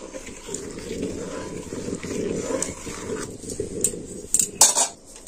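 Milk with rice flour and jaggery is stirred in a pot, a spoon scraping and clinking against the metal in a steady rhythm, with a few sharper clanks near the end.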